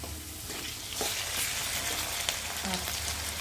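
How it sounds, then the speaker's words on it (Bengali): Fried potatoes sizzle in a pan with ginger, garlic and cumin paste, making a dense, even frying hiss with occasional stirring clicks, close and moderately loud, with no voices. "এখন আলুর মধ্যে আমি মশলাগুলো দেব এখানে রয়েছে আদা বাটা রসুন বাটা আর জিরে বাটা"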